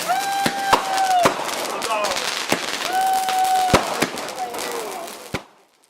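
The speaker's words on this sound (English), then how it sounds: "As the fireworks filled the sky" Fireworks bursting overhead at an outdoor celebration in Birmingham, Alabama, sharp loud cracks and booms popping at irregular intervals, with whistling rising streaks between bursts and a crowd murmuring faintly beneath, ending in a fading final bang.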